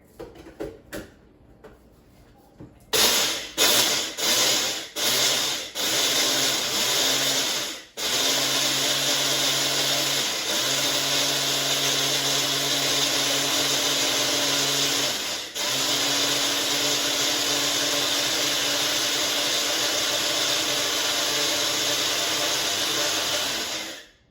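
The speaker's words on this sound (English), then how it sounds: "We're gonna grind this into a very fine powder." A small electric grinder reduces rice to fine powder, starting with several short whirring pulses and then running as a loud, steady high-pitched whine that dips briefly twice before cutting off.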